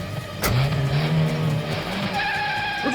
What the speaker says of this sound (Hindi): तुम गाड़ी चलाओ जल्दी